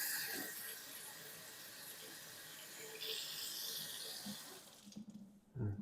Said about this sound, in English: I'm going to rinse my hands off one more time.